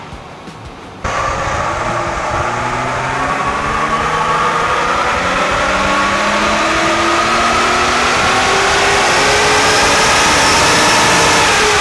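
A centrifugal supercharged car engine building revs after an abrupt start, loud and close, its whine climbing steadily in pitch toward roughly 3,500 RPM for the rest of the run.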